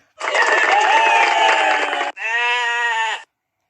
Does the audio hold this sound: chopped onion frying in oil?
no